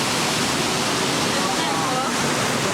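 Water rushes out at Hoover Dam in a loud, unbroken roar of dense noise that stays steady and close throughout, drowning out everything else.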